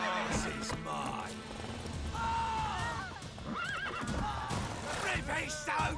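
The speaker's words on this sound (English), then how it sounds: "Hey, horsey, back off! Roach, what are you doing?" Roach, the horse in The Witcher 3, whinnies loudly several times over clattering hooves amid combat noise, while someone talks over it.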